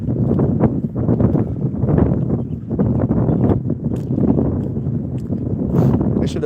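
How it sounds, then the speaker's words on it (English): Gusty wind buffets a microphone outdoors, producing a heavy, low rumble that pulses unevenly throughout, with a voice partly audible beneath it. "Sorry about the wind, y'all. It's a little windy out here."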